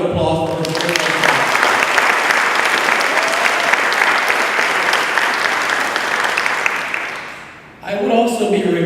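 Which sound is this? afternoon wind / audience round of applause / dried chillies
audience round of applause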